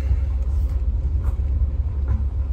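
A Citroën C6 HDi diesel saloon on a short test drive, its engine and road noise forming a steady low rumble throughout, with no talk over it.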